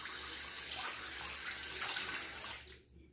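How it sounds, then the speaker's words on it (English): Running tap water pours steadily while a Durham Duplex folding safety razor is rinsed under it mid-shave; the broadband splashing is close and continuous, then cuts off abruptly near the end as the faucet stops. "Now I'll rinse again, but I'll stay on camera while I'm rinsing."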